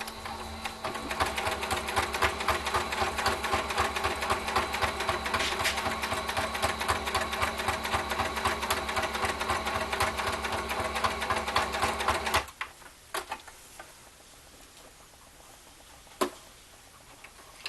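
A sewing machine stitches fabric for Christmas cutlery holders in a fast, steady mechanical chatter that runs close and loud for about twelve seconds, then stops, leaving a few faint clicks and handling sounds.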